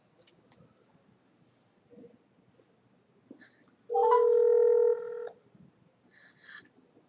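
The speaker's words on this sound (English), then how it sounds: "And I am dialing Lisa Murkowski's office." Telephone keypad tones ring out as a number is dialed, with a few quick beeps and then a loud sustained tone lasting about a second, over a quiet background with no talk.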